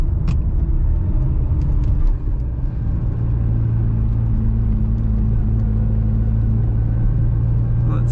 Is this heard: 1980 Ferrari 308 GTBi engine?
yes